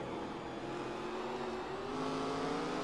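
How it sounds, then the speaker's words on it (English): ARCA race car engine at full throttle in the iRacing simulator at Stafford. A loud, steady engine drone holds without a break and rises slightly in pitch near the end. "you can hear his full throttle"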